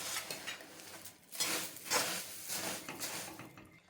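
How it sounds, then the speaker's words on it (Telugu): Two spoons scrape and stir puffed rice coated in jaggery inside a kadai over a low flame, giving close, repeated dry rustling and metallic clinks in uneven strokes, with no talk. "ఈ విధంగా 2 స్పూన్లతోని కలుపుకోండి."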